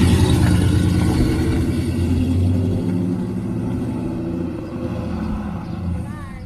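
A muscle car's engine rumbles low and steady as it pulls away on a test drive, gradually easing off, with people talking over it.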